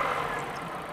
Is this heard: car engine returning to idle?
yes